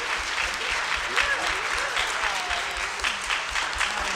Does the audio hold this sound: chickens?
no